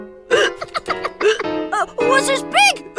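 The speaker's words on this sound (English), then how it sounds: "Henry's got the hiccups." A cartoon boy hiccups several times in quick, uneven succession, each hiccup a short sharp gulp, close and loud, mixed with other cartoon voices speaking.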